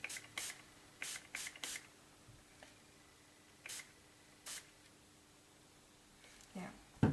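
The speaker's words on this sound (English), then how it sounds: "And then what I'm gonna do is I'm gonna spray" Several short hissing bursts from a spray can, some in quick succession, then spaced apart, close and fairly loud in a quiet room.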